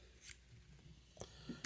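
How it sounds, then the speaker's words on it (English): Scissors snipping through paracord cord, two or three sharp close snips spaced apart with a louder final cut, faint and otherwise quiet. "And you can cut it with a pair of scissors"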